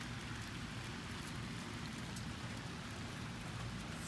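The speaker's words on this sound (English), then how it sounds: "Starting to rain." Rain falls steadily as a shower comes through outdoors, a soft even hiss of drops on surfaces with no voices.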